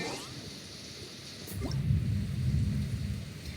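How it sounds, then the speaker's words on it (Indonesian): A thunder rumble rolls through the Genshin Impact game world, a low swelling roar building after a brief crack and sustaining for a few seconds at moderate loudness. "Wah, ada suara petir."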